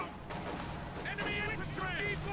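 Soviet Katyusha rocket artillery fire in Company of Heroes 2, a rumbling barrage of explosions with whistling, warbling tones layered over it, heard in a game mix with no talk.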